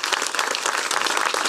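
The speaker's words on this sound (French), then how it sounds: "Et je pense qu'on peut l'applaudir très fort" Audience applause at an outdoor summer magic and mentalism show at Pairi Daiza zoo, a dense, steady wash of many hands clapping close and loud throughout, with no talk over it.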